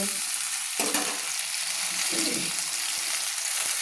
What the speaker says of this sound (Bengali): আলুগুলো আমি সুন্দর করে একটু লাল লাল করে ভেজে নেব